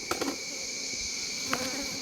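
Honeybees buzzing steadily at an open beehive during an inspection of a colony troubled by hive beetles, a close continuous drone with a few brief louder passes of individual bees.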